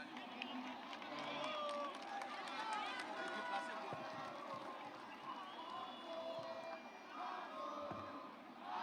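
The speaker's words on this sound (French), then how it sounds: "on peut applaudir" A large outdoor crowd at a presidential event cheers, shouts and claps in a faint, distant, continuous roar with whistles and overlapping voices.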